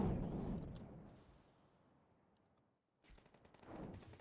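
Rapid bursts of 20mm gunfire from a Z5 destroyer in a naval battle game rattle loudly at first, fade to near silence, then return in dense volleys toward the end.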